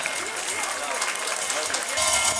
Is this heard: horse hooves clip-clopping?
no